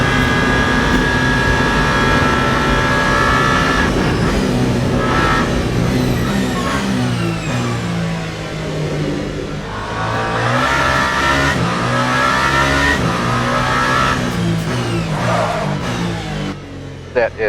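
A Porsche race car in the Le Mans Ultimate racing game, during a 24 Hours of Le Mans event, screams through repeated rising and falling revs, loud and close, with a commentator talking over it.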